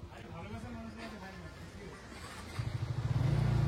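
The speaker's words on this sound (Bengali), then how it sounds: "এই সাজিদ বাইক ফাইক নিয়ে চলে এসেছে, ব্যাপারটা কি?" A motorbike pulls up on an island outing, its engine rising into a loud, throbbing idle near the end as people talk over it.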